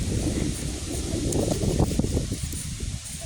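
Steady wind gusting outdoors on a snow trip as the weather worsens, a broad rushing noise with buffeting low rumble against the microphone, continuous throughout.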